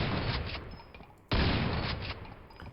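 Two heavy shotgun blasts in Quake, the pellets ricocheting off walls, each a loud broadband burst with a long decaying roar, the second harder and closer.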